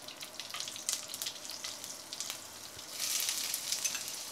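Curry leaves and finger chilies crackle and sizzle in a hot pan with mustard and coriander seeds, a steady frying hiss with light stirring, growing louder toward the end.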